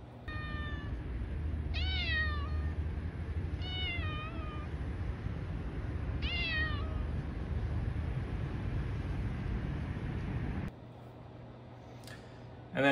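A skinny stray cat in Okinawa meows three separate times, each a clear drawn-out call, over steady outdoor background noise that drops away near the end.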